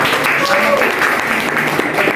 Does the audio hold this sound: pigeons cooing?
no